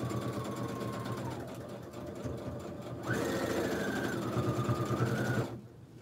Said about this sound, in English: Probably need to change the needle on this machine.